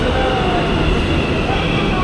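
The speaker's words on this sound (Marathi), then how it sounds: "इथे परत एक मेट्रो आले मागोमाग लगेच" A metro train rolls into a station with a loud, continuous rumble and rushing noise close by, holding steady throughout without clear breaks.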